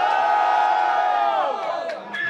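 A crowd at a Brazilian rap battle event roars and cheers loudly for an MC, a sustained mass of voices that tapers off near the end.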